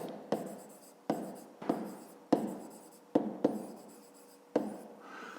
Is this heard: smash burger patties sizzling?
no